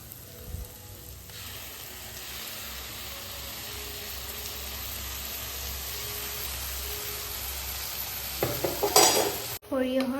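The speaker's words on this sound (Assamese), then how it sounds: "সৰিয়হৰ কেঁচা গোন্ধটো নযোৱালৈকে মই অলপ ভাজি ৰাখিম" Mustard paste fries in a pan with a continuous close sizzle while a utensil stirs and scrapes through it, ending in a few louder clatters against the pan.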